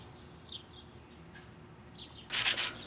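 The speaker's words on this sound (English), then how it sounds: "I'm just kind of sanding lightly the surface of the pan, the gasket surface" A brief, close scratchy rubbing of sandpaper lightly sanding the metal gasket surface of an Aztek transmission pan, a few quick strokes near the end after faint chirpy noises.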